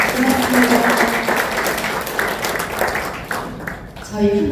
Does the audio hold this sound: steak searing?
no